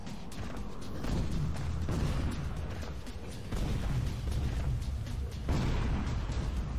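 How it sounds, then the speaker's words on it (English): Explosions in the Unreal Tournament 3 multiplayer video game rumble continuously as a dense, low, booming barrage of blasts that swells in bursts over several seconds. "I just hear explosions behind me."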